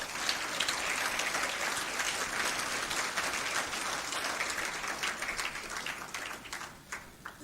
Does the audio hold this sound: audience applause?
yes